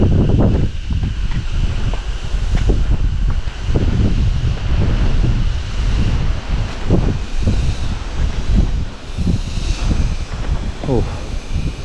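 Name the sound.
strong wind on a hilltop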